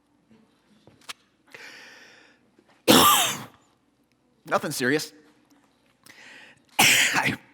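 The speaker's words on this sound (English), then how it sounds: "It started with just a cough." Several harsh, loud coughs come in separate bursts, with a few quiet spoken words and breaths between them.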